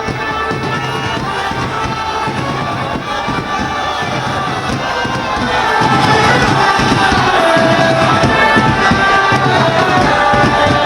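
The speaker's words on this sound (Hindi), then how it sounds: "किस तरह की भीड़ उमड़ी है वो तस्वीरों में आप देख सकते हैं" A large crowd cheers and shouts at a political road show for Amit Shah in Bolpur, West Bengal, a dense, loud, continuous roar that swells louder halfway through, with scattered voices and whistles inside it.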